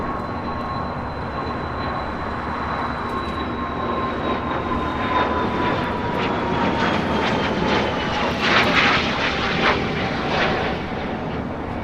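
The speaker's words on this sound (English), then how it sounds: "This Cessna Citation XLS making a short hop over to Burbank." A Cessna Citation XLS business jet at LAX roars steadily and loudly through the whole stretch, its engine whine gliding slowly downward as it passes.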